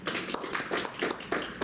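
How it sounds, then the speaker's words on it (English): A small class audience claps after a presentation in a short, uneven burst of close hand claps with no talking. "Can we give a round of applause, please?"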